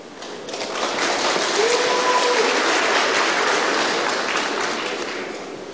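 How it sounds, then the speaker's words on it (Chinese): Sustained applause from a ceremony audience welcoming the Lee Kum Kee chairman at the opening of the Lee Kum Kee Building in Shanghai, swelling in, holding steady as a dense wash of clapping, then easing off. "大家掌声欢迎"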